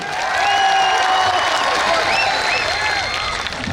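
A live audience at a Hindi-language talk breaks into loud, sustained applause, with dense clapping holding steady throughout and a few voices mixed faintly into the crowd noise.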